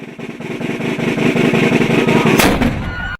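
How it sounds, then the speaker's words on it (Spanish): A loud blast with a broad booming burst and rumbling tail, like a cannon shot sound effect fired at night, standing out over a dense continuous background before cutting off abruptly. "Ya son las 9 de la noche y retumba nuestro cañonazo antiimperialista"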